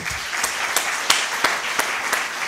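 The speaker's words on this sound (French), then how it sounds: "Donc on les applaudit aussi." Applause from an audience at a film festival closing ceremony, steady and moderately loud, with individual claps standing out at a regular rhythm throughout.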